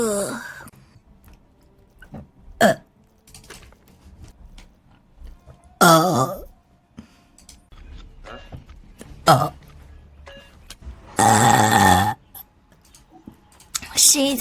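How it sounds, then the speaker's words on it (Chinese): A Vtuber streamer burps several times, with loud, rough bursts spaced several seconds apart and the biggest near the end, separated by quiet gaps and small mouth noises. "谁在打嗝呀？"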